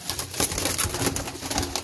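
Caged pigeons coo repeatedly in a dense, close cluster of soft throaty calls, continuous over the short stretch with no talk.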